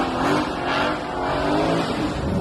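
A drag car engine revving loud and close at a drag strip, a rough continuous roar that swells and eases without any talk.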